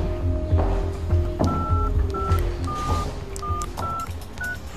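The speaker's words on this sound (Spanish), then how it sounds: "Llamó a su teléfono, pero sonó el buzón de voz." A phone keypad is dialed, with a series of short, evenly spaced DTMF tone beeps. Thumps and background rumble run beneath them, and no one speaks.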